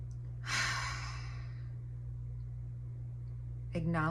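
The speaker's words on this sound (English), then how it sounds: "I want to take this time to just breathe." A single slow, deep exhale like a long sigh during a breathwork exercise, followed by quiet and then a voice beginning to speak.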